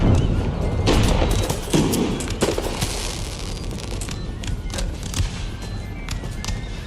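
Booming volleys of artillery and musket fire in a large Empire: Total War 2v2 battle, dense overlapping thumps and crackling shots rolling continuously with hoofbeat-like clatter of cavalry underneath, loud and busy throughout.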